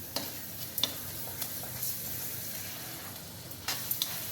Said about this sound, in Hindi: हमारे टमाटरों ने तेल छोड़ दिया है, ये देखिए। अब हम इसमें बैंगन ऐड कर देंगे